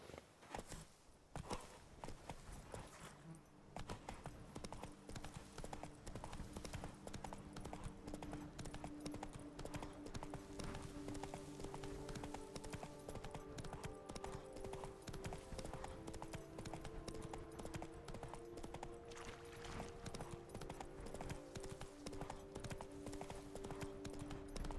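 Roach the horse gallops in The Witcher game, rapid hoofbeats drumming steadily and close for the whole stretch over a bed of music and ambience.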